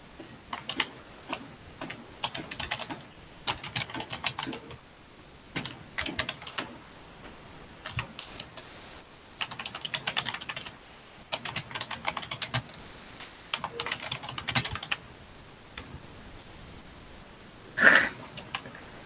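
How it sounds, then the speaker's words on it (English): Quiet, steady clicking of keys on an ordinary non-mechanical Logitech computer keyboard, typed in short bursts with brief pauses, plus one louder tap near the end. "Not mechanical. It's just an ordinary Logitech keyboard."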